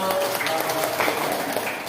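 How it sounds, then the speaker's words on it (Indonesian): Classroom applause for a student group during a teaching practice session, a steady, dense wash of clapping that fills the whole moment at fairly loud level. "tepuk tangan untuk"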